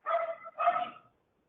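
A neighbor's dog gives two quick barks close to the microphone, loud and sharp, then silence.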